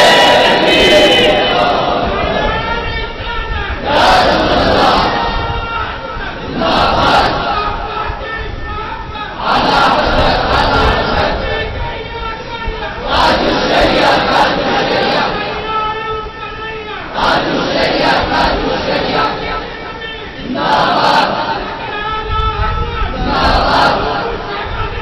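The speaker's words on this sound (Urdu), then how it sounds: "تو نعرہ بلند کر دیجیے" Crowd at a religious gathering chanting slogans in loud, rhythmic unison bursts, repeated call after call and filling the whole stretch with dense massed voices.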